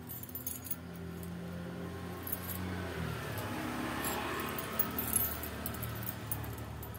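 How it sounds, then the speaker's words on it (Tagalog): A bunch of keys jangling and clinking as someone searches for the right one to fit a lock, a steady close metallic rustle over a low background hum, with no speech. "Hindi ko makita ang kasukat na susi."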